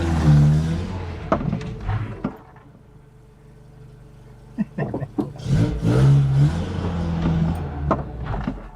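A Datsun 120Y with freshly refitted drum brakes and tires on a short test drive, its engine droning close by, swelling and easing as it accelerates and slows.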